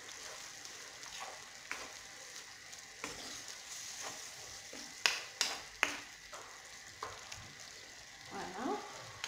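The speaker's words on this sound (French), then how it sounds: "Maintenant, je vais rajouter mes légumes. Je vais remuer encore un petit coup." Beef and vegetables for a Moroccan tagine sizzle in a pan while being stirred, a constant frying hiss broken by sharp scraping and clattering strokes of the spoon, a few louder knocks near the end; no speech.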